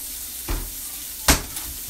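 Onions sizzle steadily in a pan for a chopped cheeseburger sub, a constant hiss broken by two brief scraping stirs.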